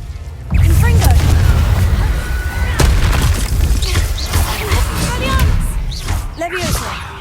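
Confringo fire-spell blasts in the Hogwarts Legacy video game: a dense run of booming bursts and crackling impacts over a steady low roar, with a voice partly under the action.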